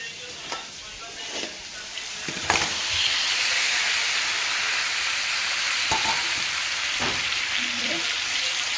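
Meat dropped into hot oil in a pan crackles into a loud, steady sizzle after a few clattering stirs, close up and continuous with no talking.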